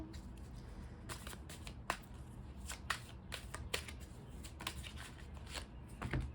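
Close, crisp tarot card shuffling with several quick riffles and sharp snaps at irregular intervals over a faint low rumble.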